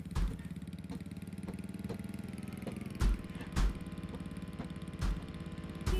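A small moped engine in the video game Wobbly Life putters at a steady idle, with sharp thumps and knocks landing every second or so over it, no voices.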